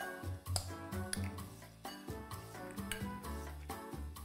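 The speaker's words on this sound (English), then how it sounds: "Let's give all of this a good mix." A spoon scrapes and clinks against a bowl while processed cheese and spinach cannelloni filling is stirred, giving quiet, repeated knocks and scrapes up close under soft background music.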